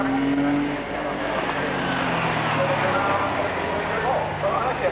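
A Porsche 914 GT race car drives at the Crystal Palace circuit, its engine note droning steadily and shifting pitch as it passes, with a commentator talking over it throughout.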